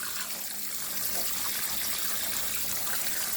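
Sorrel (hibiscus) being washed in water for a Jamaican drink, a steady close splashing and trickling sound with no talking.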